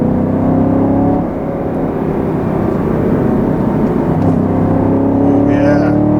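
Steady engine drone from a 2020 Chevrolet Camaro 2SS with a V8 and 10-speed automatic while driving, loud and continuous with a rising rev toward the end.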